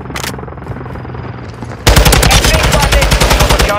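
Sustained rapid machine gun fire from a helicopter door gunner in Call of Duty: Modern Warfare 2022 on the Mercado map, a loud close continuous burst that cuts in after quieter ambience and a brief burst at the start.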